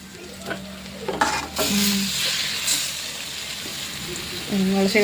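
Chicken biryani mixture being stirred in a pot over heat, scraping spoon strokes over a sizzling hiss, with a voice speaking briefly in the background.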